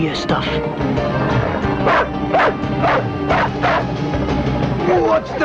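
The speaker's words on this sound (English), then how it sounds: "What's the matter with you dogs?" Several dogs barking and yipping in rapid, repeated bursts, loud and close, with someone shouting over the din in a 1985 TV drama scene.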